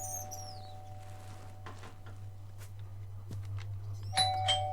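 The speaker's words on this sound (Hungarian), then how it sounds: "Ki a faszom csenget?" Doorbell in the horror video game You Got a Package, ringing as a clear two-tone ding-dong near the end, preceded by chirping tones over a steady low hum.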